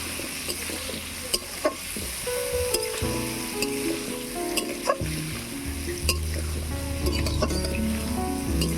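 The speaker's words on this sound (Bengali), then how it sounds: "আলুটাকে এবারে ভালো করে কষিয়ে নেব।" Washed potatoes stirred and sautéed in spiced oil in a pan, with a steady close sizzle, scraping stirs and occasional sharp utensil clicks throughout, under background music.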